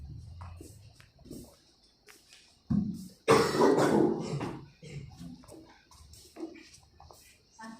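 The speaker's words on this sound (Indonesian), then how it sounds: "Batuk-batuk." A cough bursts out in a classroom during a math lesson, one loud, rough fit of coughing that rises above quiet background voices and shuffling.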